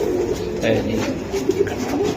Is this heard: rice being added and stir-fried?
no